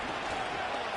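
A football stadium crowd roars during a two-point conversion attempt in a college football game, a steady wash of cheering and applause with no break.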